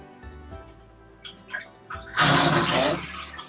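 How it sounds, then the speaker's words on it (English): Water draining out of a basin after a turkey has been cleaned in it, starting with a few faint drips and gurgles, then a loud rushing, gurgling drain that carries on steadily to the end. "We're going to drain the water out now."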